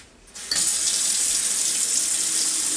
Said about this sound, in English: we're just going to run some water